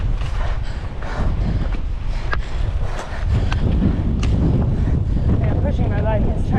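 Strong, gusty wind roars across an outdoor racecourse near El Paso, a dense low rumble buffeting the microphone continuously, with a person talking over it.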